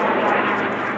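A fixed-wing airplane from a nearby airport flies low overhead while turning, a loud, steady broadband engine roar filling the whole second with no talk over it.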